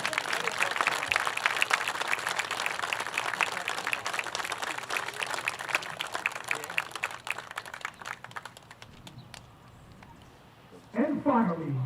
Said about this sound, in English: Let's get another round of applause for the Cooney family.